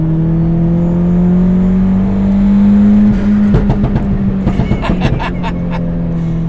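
A tuned Hyundai Genesis running E85 accelerates hard, its engine drone climbing steadily before a burst of sharp crackles and pops as the throttle lifts, loud and close.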